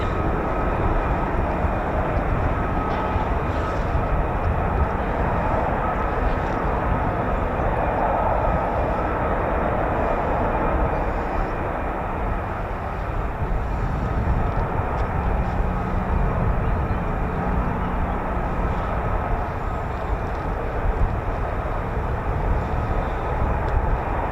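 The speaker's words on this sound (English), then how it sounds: "Looks like a ship-borne rolling landing." An F-35B stealth jet performing a ship-borne rolling landing at an air show, a steady broad engine roar that holds loud and continuous throughout without speech.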